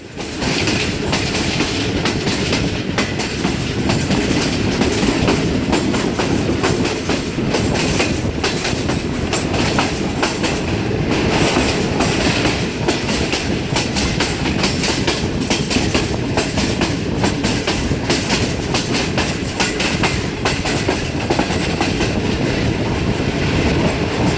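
A Green Line Express passenger train near Lahore rolls steadily along the rails, a continuous loud rumble with faint clickety-clack of wheels, heard from on board throughout.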